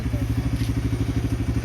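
Motorcycle engine ticking over at low speed, a steady close thumping beat that stays even and moderately loud through the short moment.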